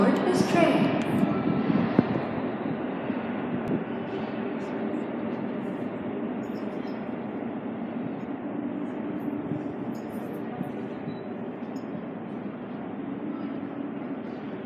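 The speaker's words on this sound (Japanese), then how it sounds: "電車が通過するまで白線の内側でお待ちください。" A Tokyo Metro 6000 series subway train rumbles steadily through Hibiya station without stopping, a sustained low roar in the enclosed station that starts with a brief louder burst and holds for the full length.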